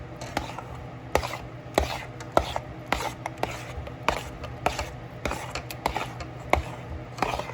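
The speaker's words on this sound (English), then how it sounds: "And you're gonna wanna thoroughly mix it." A spoon or whisk works through a thick yogurt pop mixture in a bowl, giving close, repeated scraping and tapping strokes at a steady, brisk rhythm with no talking.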